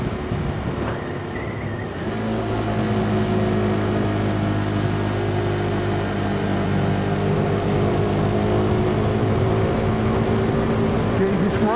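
KTM 390 Duke motorcycle being ridden on an uneven road, a steady droning engine hum over wind rumble that settles into a constant cruising note after about two seconds, with a rider talking throughout.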